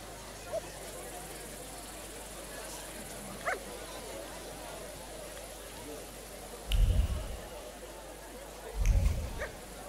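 Donut, a dog in the video game The Thaumaturge, gives two short, fairly close barks near the end, set against a quiet ambient background.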